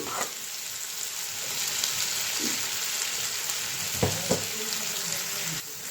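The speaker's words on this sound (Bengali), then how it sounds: "তো ভালো মতো মিক্স করে নিই।" A boiled potato sandwich stuffing stirred in a hot frying pan, steady sizzling with a few scraping strokes of the spatula against the pan, close and continuous with no talk.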